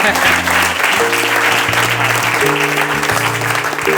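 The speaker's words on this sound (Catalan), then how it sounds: "Un aplaudiment ben fort per ells" An audience at a reading event in Santa Coloma de Farners gives a loud, continuous round of applause, with sustained musical tones running underneath.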